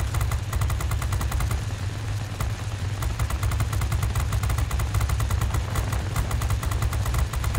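Aircraft guns firing in a World of Warplanes dogfight, the Gaming Bear Di-6i, a steady rapid clatter of shots over a droning engine, continuous and fairly loud throughout.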